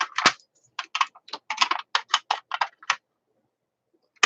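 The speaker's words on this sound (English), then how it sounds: "Get you a good pair of scissors and just cut right down the edge." Scissors trimming the edge of a thin embossing aluminum sheet give a close run of crisp, quick snips for about three seconds, then a pause before one last cut.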